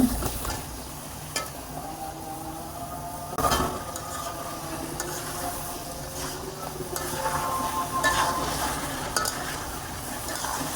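Chicken pieces cooking in a sour yogurt masala in a pan, stirred with repeated scraping and light clinks of a utensil against the metal over a continuous close sizzle.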